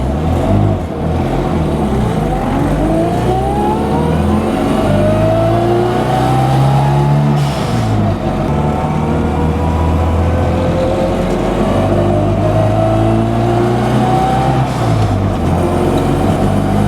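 A tuned Mini car accelerates hard under boost, its engine note climbing steadily in pitch through several gear pulls with a brief drop between them, loud and close throughout with no talking.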